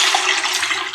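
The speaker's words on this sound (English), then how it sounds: "Pour in 300 ml of water" Water poured steadily into a stew mixture of cottage cheese and capsicum, a continuous bright splashing stream heard close and alone for a moment.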